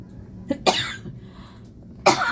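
A couple of short, sharp coughs close by, separated by a quiet pause with faint background noise.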